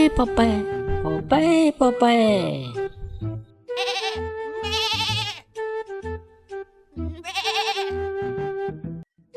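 Goats bleat repeatedly nearby, several wavering, drawn-out calls with short pauses between them, loud and clear with little else around.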